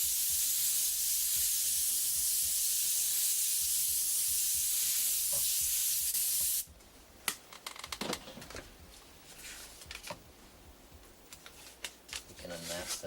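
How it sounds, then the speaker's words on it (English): An airbrush sprays a darker paint color in a steady broad hiss for about six and a half seconds, then stops, leaving quieter handling noises and a voice talking. "We'll spray that in with our darker color."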